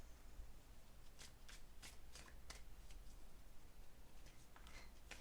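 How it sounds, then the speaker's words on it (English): Tarot cards are shuffled close by, a series of quiet crisp riffling bursts and soft taps over a low background hum, with no talking. "I'm going to shuffle your tarot cards"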